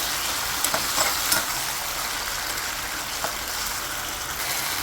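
Brinjal and potato frying in a pan for a mashed curry, a steady close sizzle with soft crackles and a few stirring clinks.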